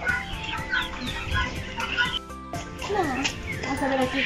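Chickens and hens cluck in a pen at a mini zoo in Berriozábal, a busy run of close clucks and calls over steady background talk and crowd noise, with a brief drop around the middle.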